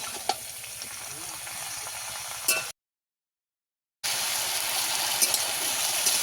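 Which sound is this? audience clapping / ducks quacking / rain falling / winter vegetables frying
winter vegetables frying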